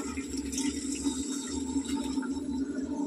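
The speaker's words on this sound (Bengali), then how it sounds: "জল দিলাম।" Hot water poured into a pan of chilli chicken, a steady continuous pouring and splashing of liquid close by, unbroken for a few seconds with a low rumbling undertone.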